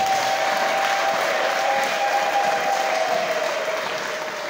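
A church congregation claps together in a sustained, dense round of applause that holds steady for several seconds and fades slightly at the end, loud and close, with a faint thin tone running underneath.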